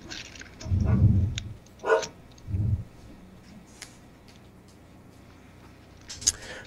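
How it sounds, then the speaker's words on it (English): A dog barks a few times nearby, three short loud bursts close together, then quieter sounds and one more sharp sound near the end. "That's the dog"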